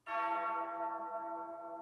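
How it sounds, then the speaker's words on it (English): Deep church-style bell struck once as intro music, a loud clear strike whose rich ringing tone decays slowly and hangs alone without talk. "the bells toll"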